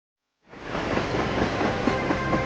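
A train rolls by on the railroad in Pennsylvania, rising suddenly from silence into a loud steady rumble with faint rhythmic clacking of the wheels, no voices.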